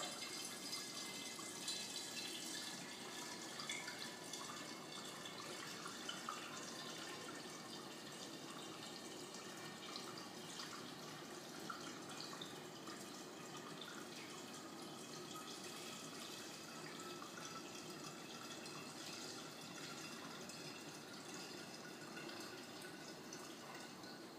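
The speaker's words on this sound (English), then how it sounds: "get your funnel, fill this 1 gallon, I like to fill it up about halfway" Water runs steadily through a funnel into a one-gallon jug for mead, a continuous close splashing and trickling with no talk over it.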